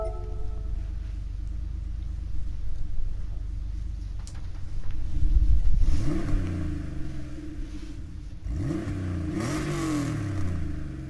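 A VW Beetle fitted with a swapped Porsche 3.6-litre engine in Gran Turismo 7 revs up from a low idle, swelling to a loud, rising roar around mid-clip, then climbing and easing again in two more surges, all without speech.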